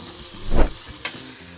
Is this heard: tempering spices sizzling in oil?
yes